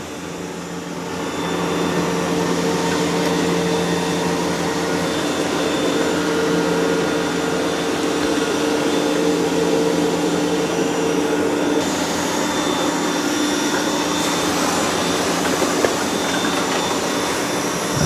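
A Roborock robot vacuum mops a floor, giving a continuous, steady motor whir and hum throughout, moderately loud and close, with no talking.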